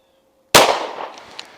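One sharp, loud shot from a firearm fitted with a Votatu PMD504G sight and RM1C, fired at 7 yards, with a quick crack and a fading tail over the following second.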